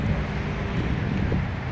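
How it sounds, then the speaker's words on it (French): Strong wind buffeting outdoors beside a camper van in Quebec near Drummondville, a loud, steady low rumble of gusts across the microphone with no break. "il y a énormément de vent"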